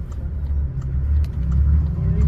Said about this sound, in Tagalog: Dako kayong truck oh